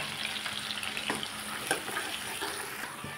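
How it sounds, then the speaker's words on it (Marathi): Gravy for a paneer and peas curry hitting hot oil in the pan, a close, dense sizzle and bubbling fry that runs steadily throughout with small stirring clatters. "आता ना त्याच तेल मा पण मी ग्रेव्ही हे टाकी देस"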